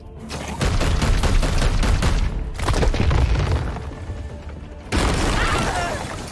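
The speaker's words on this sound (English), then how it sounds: "Let's take the shot. Firing on target." Video game gunfire and booming weapon blasts from Warhammer 40k Chaos Gate: Daemonhunter, loud and dense, with a brief pause mid-clip before another volley; voices speak faintly beneath the battle noise.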